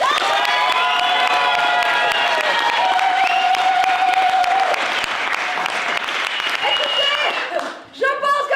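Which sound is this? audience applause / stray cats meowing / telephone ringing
audience applause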